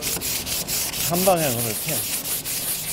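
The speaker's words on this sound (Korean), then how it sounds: "이게 지금 사실 사포질을 처음 하면 어렵죠" Sandpaper is rubbed by hand over a wooden craft object in steady, scratchy strokes, with a person talking over the sanding.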